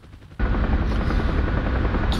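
A helicopter in the DCS flight simulator game makes a loud, continuous rotor and turbine roar. It starts abruptly and holds steady for about two seconds, with no talk over it.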